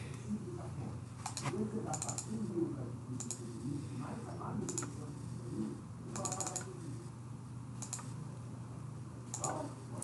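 Bursts of keyboard typing in NPrinting software, quick clusters of clicks separated by pauses, sitting under a voice talking throughout.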